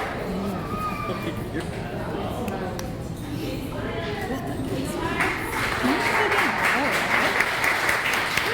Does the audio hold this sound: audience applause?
yes